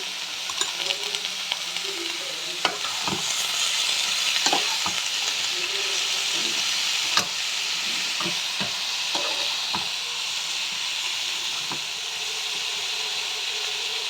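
Cumin, chilli and coriander powders frying with mixed vegetables in a pan, a continuous soft sizzle broken by irregular scraping and stirring knocks from a spatula, fairly close and steady throughout.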